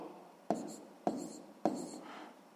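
Pen writing numbers on paper for a sixth-grade math exercise, three distinct scratchy strokes spaced evenly, close and fairly quiet.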